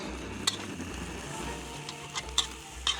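Pineapple fried rice stir-fried in a hot wok with a scorching bottom, a steady close sizzle and crackle with occasional sharp scraping clicks of a utensil against the metal.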